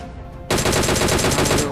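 A DP-28 machine gun fires in a video game, a loud, rapid burst of evenly spaced shots lasting over a second after a brief quieter lead-in.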